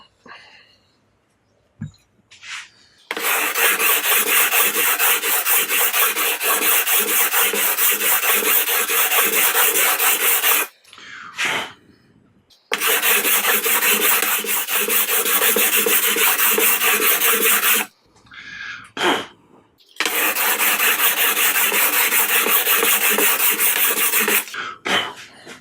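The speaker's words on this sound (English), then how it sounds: "the end of the fretboard is the most part that will need more filing, since there is a big amount of material than the forward part of the fretboard" A file rasps along the frets of a CNC-built guitar to level them, in long, steady, close strokes broken by short pauses, with a brief throat-clear in one gap.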